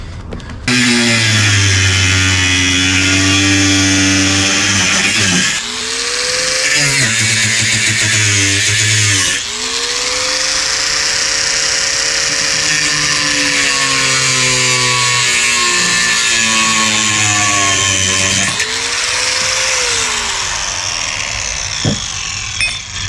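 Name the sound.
grinder with small cutting disc cutting bolts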